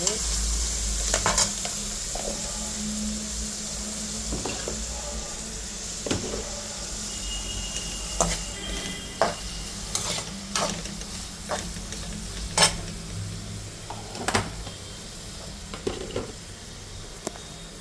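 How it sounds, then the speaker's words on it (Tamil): Kashmiri chilli sautés in a pan with a continuous low sizzle, punctuated by sharp spatula scrapes and taps against the pan, heard up close without speech. "காஷ்மீர் சில்லி கொஞ்சம் கலர் வர வந்து போட்டுட்டு நல்லா வதக்கணும்"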